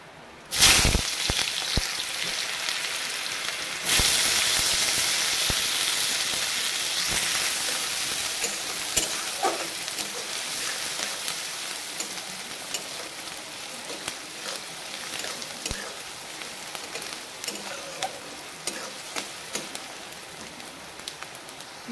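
Chopped onion sizzling in hot oil with cardamom, cinnamon and cumin for paneer do pyaza, starting with a loud burst as the onion hits the pan, then a steady crackling hiss with scattered pops.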